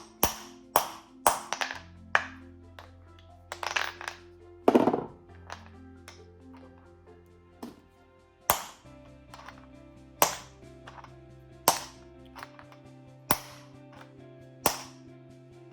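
A Ninebot Max scooter front wheel bearing being hammered out, with a dozen or so sharp metallic blows at an uneven, unhurried pace, each ringing briefly, close up over a faint steady hum.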